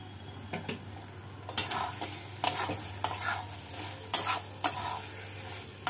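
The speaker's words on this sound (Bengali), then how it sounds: "মাংসটাকে আর একটু কষিয়ে নেব।" Boneless chicken sizzles and fries in a pan with cashew and dried chilli paste while a utensil stirs it in repeated scraping strokes, close and clear, with no talking.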